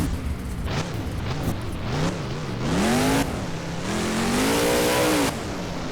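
The Gunslinger monster truck's engine revs repeatedly in a BeamNG Monster Jam freestyle event, rising and falling throttle sweeps with a loud sustained roar near the end, close and unaccompanied by talk.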